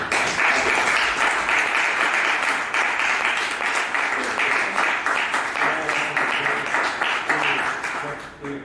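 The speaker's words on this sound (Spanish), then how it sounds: "Un aplauso" An audience at a historical novel panel discussion applauds steadily, a dense sustained round of clapping that tapers slightly toward the end.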